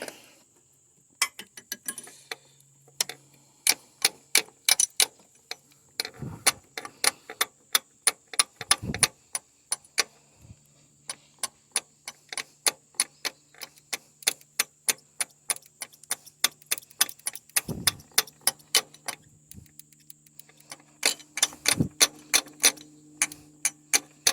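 A car fuel injector clicks rapidly and sharply while being pulsed and tapped on, with a long run of evenly spaced mechanical ticks, some heavier knocks, and a faint electrical hum underneath, close up and without talk.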